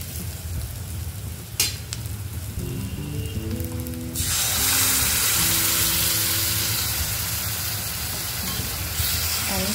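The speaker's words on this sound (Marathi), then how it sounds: "आणि छान असं परतून घ्यायचं आहे तेल सुटेपर्यंत" Masala sizzling in hot oil in a pan, a soft stirring clatter at first, then the frying hiss jumps suddenly louder and holds steady and close.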